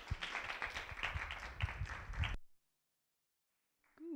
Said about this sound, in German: Und jetzt ein großer Applaus bitte